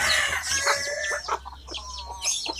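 Free-range village chickens with a rooster crowing over steady clucking from the flock, loud and close, with no speech.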